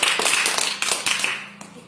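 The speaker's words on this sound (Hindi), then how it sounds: "इनके लिए जोरदार ताली बजाइए" An audience at a school quiz event claps for a contestant: a burst of dense applause at moderate distance, steady for nearly two seconds, with a few sharper individual claps standing out.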